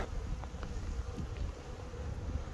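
Honeybees buzz steadily at a hive used for mating nucs near a rapeseed site, a dense, faint drone with no talking.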